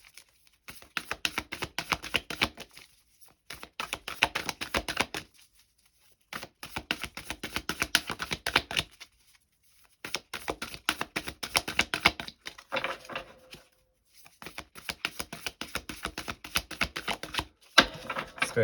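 Oracle cards are shuffled and sorted by hand in rapid bursts of riffling, flicking and tapping, several seconds each, separated by short silences and heard close up.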